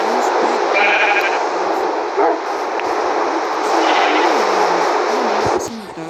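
A sheep bleats loudly and close by in long, wavering calls repeated over several seconds, with a faint low rumble underneath.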